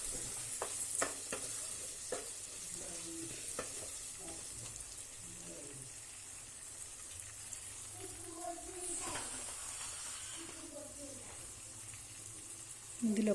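Two chopped tomatoes frying in a pan, a steady soft sizzle with occasional stirring scrapes throughout, close and fairly quiet.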